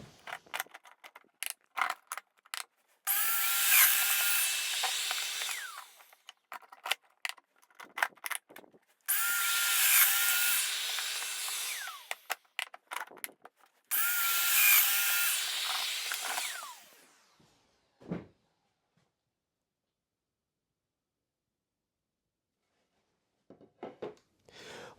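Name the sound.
Festool Domino joiner making mortise cuts in clamped stock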